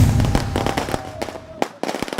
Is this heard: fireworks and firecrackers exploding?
yes